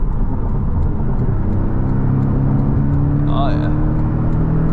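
A Porsche 718 Boxster accelerates from a standstill in first gear, its engine note climbing steadily under a constant road and cabin rumble, while a person speaks briefly over it.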